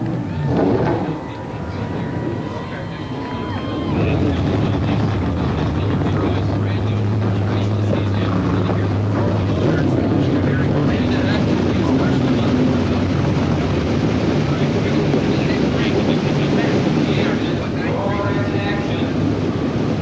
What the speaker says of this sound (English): The engines have fired up